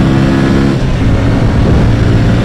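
A 2008 Yamaha XV250 Virago 250 motorcycle engine, loud and close, idling with a rough low rumble that rises into a short rev partway through.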